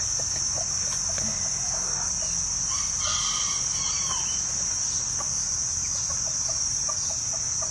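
A backyard chicken makes soft clucks close by, steady and under a loud, continuous chorus of insects, with no one speaking.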